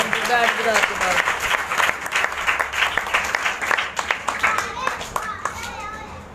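Congregation applauding at a Sukkot gathering, rhythmic hand clapping with children's voices and chatter mixed in, steady and fairly close throughout.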